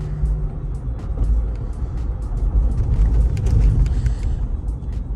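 A 2013 Lexus GX460 luxury SUV drives along, heard as a steady low engine and road rumble from inside the cabin, with faint ticks and rattles over it and no talk.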